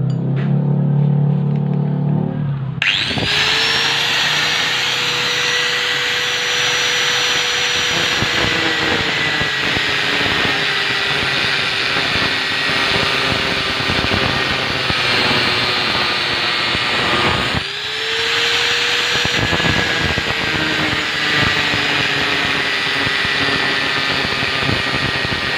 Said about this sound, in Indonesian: Kita gerinda bagian yang sudah digaris ini.